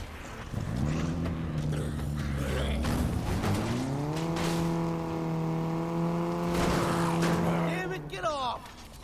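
A car drives through the video game Dead Rising 3, its engine holding a steady loud harmonic drone that rises as it accelerates, with a short tire squeal near the end and no talk.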